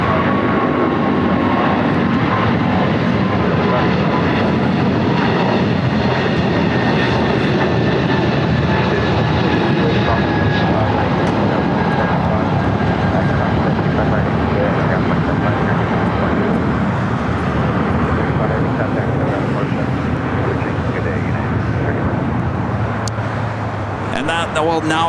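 A jet airliner, a Boeing 777, at LAX gives a loud, continuous engine roar and rumble that slowly shifts in pitch over the whole stretch, with faint talk and airport noise mixed in.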